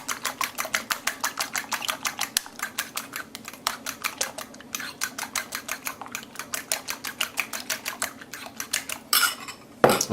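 Eggs whisked briskly in a bowl, a fast, steady rhythm of metallic clicking strokes close up, running continuously with a brief louder clatter at the end.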